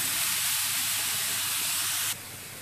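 Grated green zucchini hitting hot vegetable oil in a pan, a loud broad hissing sizzle that holds steady, then drops noticeably quieter near the end.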